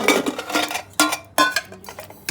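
Lids and bowls bought as souvenirs from Puri clatter as they are handled and pulled apart, sharp clinks and knocks of stacked dishware close by, in a few quick bursts.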